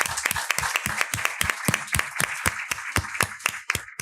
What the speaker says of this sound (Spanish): un aplauso les brindamos a nuestros expositores